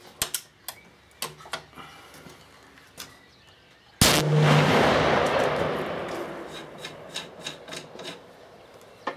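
A Remington 700P rifle with its factory muzzle brake fires a single loud, close shot that booms and rolls away over several seconds, set between light ticks and handling clicks.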